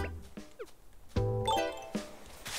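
Tree being shaken in Animal Crossing: New Horizons, a mix of soft game rustles, rising chirpy tones and a bright jingling chime over a quiet in-game background.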